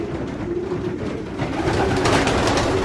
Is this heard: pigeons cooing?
yes